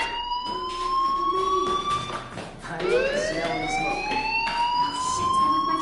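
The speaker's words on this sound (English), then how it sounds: "do you hear that fire alarm?" A wailing siren-like alarm sweeps up and down in pitch continuously, rising again after a brief dip, loud and steady throughout with no talking.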